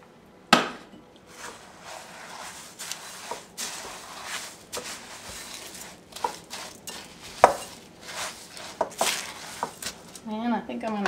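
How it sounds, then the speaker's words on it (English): A spoon stirs a sticky rice crispy mixture in a pan, making irregular scraping knocks and clunks close by with one sharp initial hit, and a voice talks underneath. "Just stir it around, get it all blended together."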